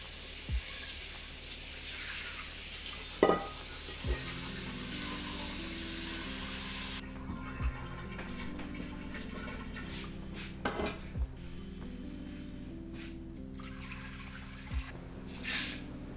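Washing up a cooking pot in a kitchen sink with water running steadily, punctuated by scattered clinks and knocks of metal against the basin, fairly close and with no talking.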